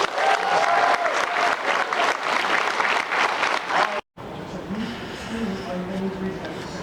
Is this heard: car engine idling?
no